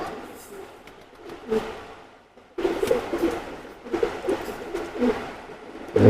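Teddy pigeons coo in a series of soft, throaty calls close by, quieter at first and then louder and more frequent, with a voice faintly present in the background.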